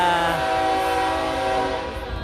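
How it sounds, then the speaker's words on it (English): A train passes close by on a line beside a Lake Street wine bar, its loud steady rumble carrying tonal horn-like harmonics that hold throughout before thinning slightly at the end. "Don't mind the train, you all."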